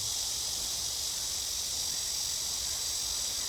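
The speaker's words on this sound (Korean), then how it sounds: "말매미죠? 네, 말매미." A large black cicada, Cryptotympana atrata, calls in a continuous loud buzzing drone that holds steady and unbroken throughout, with no voices.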